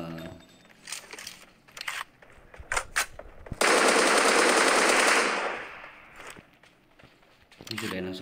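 Rapid automatic gunfire from the mobile battle royale game PUBG Mobile, heard through a POCO F3 phone's Dolby speakers: scattered single shots and footsteps, then a loud sustained burst lasting a few seconds before fading.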